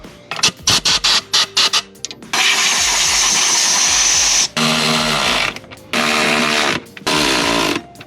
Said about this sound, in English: So all we're gonna do is blow all this stuff out with compressed air